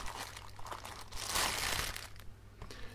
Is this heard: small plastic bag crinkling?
yes